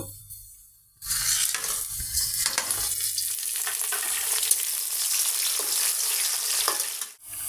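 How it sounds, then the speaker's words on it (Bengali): Chopped onion for chicken pulao hits hot oil in a pan and sizzles loudly and steadily, starting after a second of near-silence and holding a dense, even crackle to the end. "পেঁয়াজটা ভাজতে দিচ্ছি"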